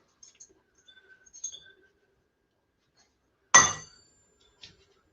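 Tiny brass nuts from sockets drop into a small brass bucket, a few light faint clinks and then one sharp metallic clatter, with a single small tick after it, all in near silence.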